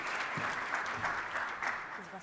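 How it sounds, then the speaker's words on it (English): Audience applause at a youth economic council event, a steady wash of clapping from a seated crowd, moderately loud and continuous with some voices murmuring underneath. "Please give her a round of applause."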